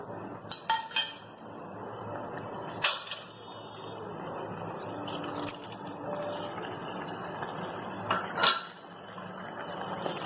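Boiled macaroni pasta stirred with cream in a pan for a paneer pasta masala, giving scattered metallic clinks and scrapes of a spoon against the pan over a soft, steady background.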